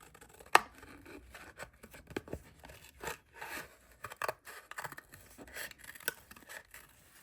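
Scissors snipping and cutting paper for a traveler's notebook craft project, a series of soft irregular snips and rustles at close range, no voices.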